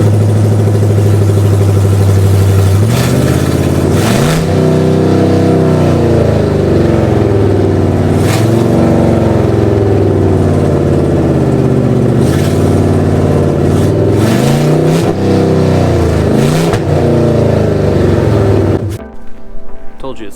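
A loud Ford F250 pickup truck engine starts and revs repeatedly, deep rumbling rising and falling in waves, close up and continuous before cutting off abruptly.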